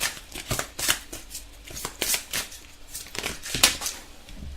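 Tarot cards handled and drawn from a deck, a run of quick crisp papery snaps and shuffles close by with no talking.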